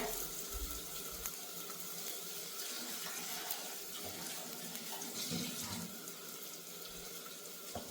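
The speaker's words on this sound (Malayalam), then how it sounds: "കുറച്ച് വെള്ളം കൂടി എടുത്തിട്ട് വരട്ടെ" Water running from a kitchen tap, a steady rushing stream heard close by for several seconds with faint background clatter and no talking.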